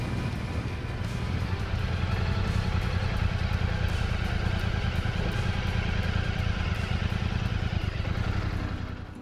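A Classic 650 motorcycle is ridden with a continuous, close engine thrum and rumble, steady and fairly loud throughout, with no speech over it.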